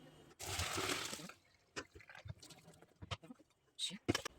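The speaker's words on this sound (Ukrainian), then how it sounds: "Ось вода стікає ще, хай стікає." Water from rinsed eggplant splashes and trickles briefly through a colander, followed by scattered drips and small wet clatters nearby, with a little speech mixed in.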